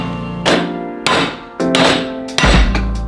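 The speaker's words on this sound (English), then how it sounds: "This is just like a wheel stud, but I found it better to hit it." Hammer striking a wheel stud into a Ford Bronco lift part, four loud ringing metallic blows spaced about half a second apart, each with a short ringing decay.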